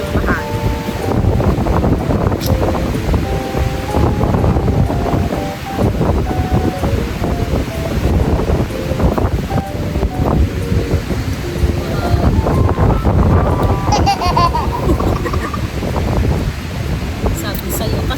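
Strong gusting wind buffets the microphone on a beach in La Union, roaring over surf, while people talk and a few tonal sounds rise in the background.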